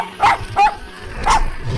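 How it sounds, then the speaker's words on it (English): A small dog yaps three times in quick, sharp bursts, close and loud, with a short pause before the last yap. "The little dog yapped."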